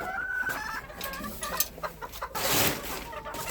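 Small hens, likely bantams, cluck close by in a winter coop, with overlapping short calls and soft rustling.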